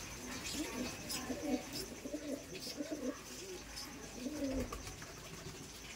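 A Madrasi tournament pigeon of Chennai stock coos softly in a string of low, rolling calls, faint and close, with a quiet background hum.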